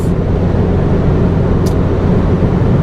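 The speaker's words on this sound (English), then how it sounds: "I've also noticed on the freeway there's a bit of wind noise around the roof," Wind roaring around the soft-top roof of a 2013 MINI John Cooper Works Roadster at freeway speed, a steady, loud broadband rush blended with road and engine drone, with no talk.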